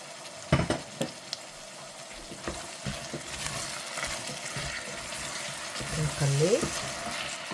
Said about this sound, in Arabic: نقلي.